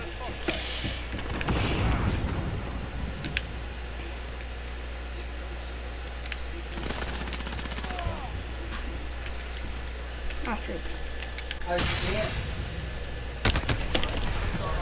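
Gunfire in Call of Duty Modern Warfare: a few short bursts of shots rising out of a steady game soundscape, spaced seconds apart at moderate loudness.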